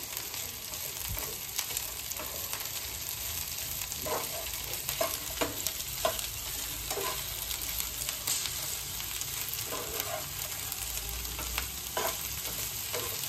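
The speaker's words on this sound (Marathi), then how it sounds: "ही भेंडी आपल्याला पूर्णपणे परतून घ्यायची आहे तेलामध्ये" Okra (bhindi) sautéed in oil in a pan: a steady, close sizzle runs throughout, broken by repeated scraping stirs with a spatula, and no voices.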